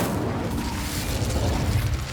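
Incendio fire spell cast in Hogwarts Legacy, a dense low rumbling whoosh of flame that holds steady and loud for about two seconds without a clear start or finish.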